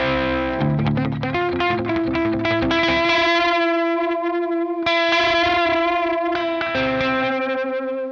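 Electric guitar through a Fuzz Imp Furia distortion pedal and Echo Moon delay, heavily distorted sustained chords and notes, with echoing delay repeats trailing each phrase, loud and continuous.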